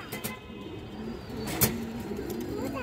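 Lively domestic pigeons give soft, low cooing calls close by, faint under light background noise, with a brief sharp click in the middle.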